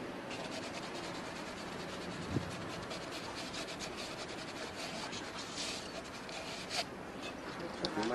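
Sandpaper rubbing over PVC pipe ends and fitting sockets at a building site: a continuous, dense, close abrasive scraping with small bumps in intensity throughout.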